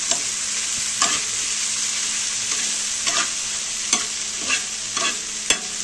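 Green chillies frying on a hot tawa. A constant bright hiss carries on throughout, punctuated every second or so by sharp clicks and scrapes as the chillies are stirred, with no talking.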